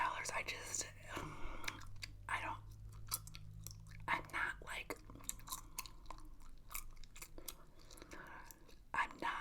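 Close-miked ASMR gum chewing: wet smacks and soft crunchy bites repeat throughout, mixed with quiet whispered talk.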